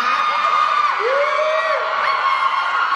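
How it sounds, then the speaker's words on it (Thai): High-pitched screams and cheers from a crowd at a Thai press conference for a stage show, one sustained loud wave of shrieking with no speech over it. "ขอเสียงกรี๊ดหน่อย"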